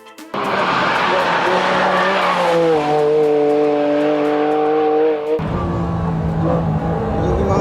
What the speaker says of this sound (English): It was powered by a 3-liter C30A V6 engine producing 276 horsepower.